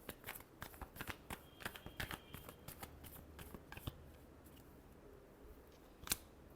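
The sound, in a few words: tarot cards being shuffled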